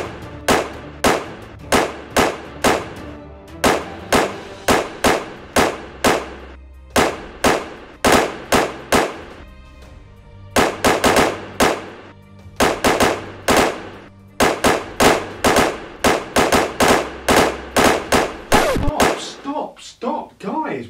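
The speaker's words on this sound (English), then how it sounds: "Like when shootouts happen, everyone is clearly firing into each other's direction" Gunfire in a comedic movie shootout parody: many loud, sharp shots in quick irregular clusters over about twenty seconds, with short pauses between the volleys.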